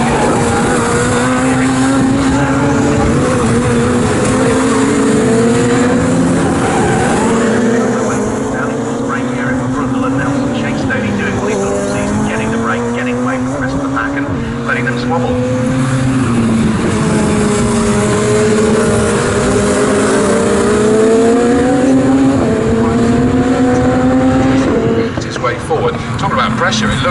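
Radical SR1 race cars with identical 1340cc Suzuki engines roar past in a race, their rising and falling engine notes continuous and loud beneath a commentator's voice.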